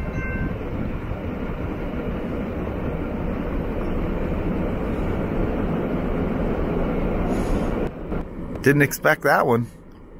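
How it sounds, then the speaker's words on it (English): Two long freight trains rumble past back to back on the same track, steadily, close and continuous, with a brief burst of talk and noise near the end. "Two trains back to back on the same track."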